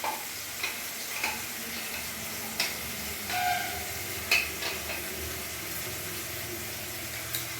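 A ground paste of cashew, melon seeds, ginger and green chilli frying with tomato in a pan gives a steady, moderate sizzle close by, with occasional faint clicks and stirring taps throughout.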